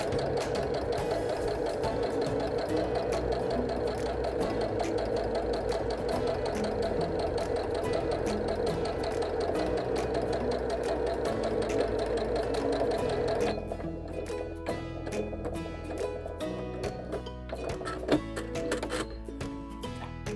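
A Janome 780DC sewing machine stitches fabric in a loud, continuous mechanical whir for about thirteen seconds, then slows into rhythmic ticking stitches with a few clicks.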